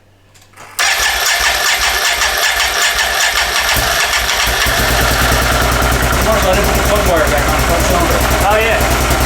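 A wrecked Can-Am Outlander ATV engine cranks briefly and catches, jumping almost at once to a loud, rough, steady idle that runs close and constant for the rest of the clip.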